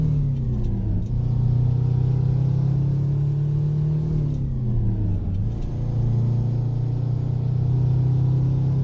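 A deep, steady Peterbilt 359 truck engine in American Truck Simulator drones continuously, its pitch dipping and rising a few times as it shifts and revs, loud and close with no talking.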